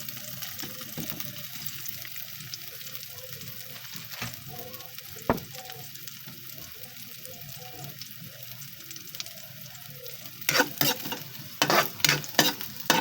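Ginger with onion sizzles in a pan until golden brown, a steady crackling fry close up, broken by occasional stirring scrapes and louder spatters toward the end.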